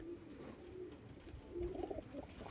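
Pigeons for sale, including black-eyed, green Madras, Andra Fulsira and Fatka breeds, cooing in low soft repeated murmurs amid bird chatter and background noise, no talk.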